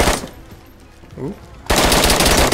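Gunfire in the video game DayZ, a short shot at the start, a quiet stretch with a brief voice, then a loud rapid automatic burst filling the last second.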